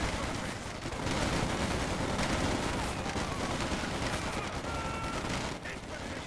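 Dense close-range gunfire crackles through a Company of Heroes 2 battle, rapid shots and bursts overlapping in a continuous, fairly loud barrage for several seconds.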